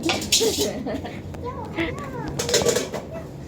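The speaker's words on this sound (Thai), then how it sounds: "ดูคนล้างจาน" Dishes, pots and cutlery clatter and clink in an evening home kitchen while food is cooked, with several sharp knocks close by under ongoing Thai conversation and a voice.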